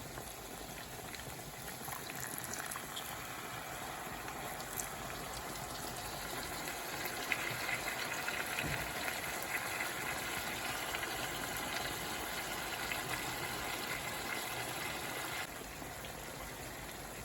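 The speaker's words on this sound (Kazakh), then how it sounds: "Қуырылып жатқан табамызға 2 шай қасық соевый соус құямыз" Soy sauce, two teaspoons, goes into a hot pan of frying chicken, giving a steady loud sizzle and bubbling hiss that holds evenly for about fifteen seconds before easing slightly near the end.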